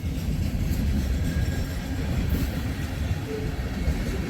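A freight train rumbles steadily past, a continuous low roar with faint rhythmic clatter from the wheels, close by and loud throughout.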